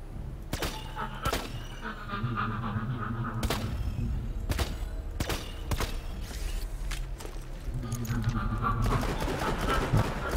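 Repeated gunfire bursts in the Borderlands 2 DLC Sir Hammerlock's Big Game Hunt, sharp loud shots at irregular intervals over a steady game background, aimed at an enemy.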